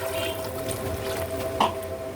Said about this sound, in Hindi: अब हम इसमें पानी और चावल डालते हैं।